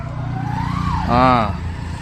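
A Hayabusa motorcycle rides past near Kavoor Dam, its engine note rising and then swelling in a brief, loud pass, with someone talking over it.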